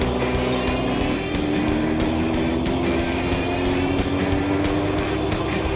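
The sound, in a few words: Dawson Motor Company (DMW) motorcycle engine running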